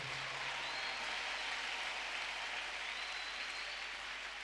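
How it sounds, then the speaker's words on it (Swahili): A church congregation applauds in praise of Jesus, a dense, steady wash of clapping from many hands filling the room at a moderate, even level throughout, with no break in the sound. "Tumpe sifa Bwana Yesu za makofi tena."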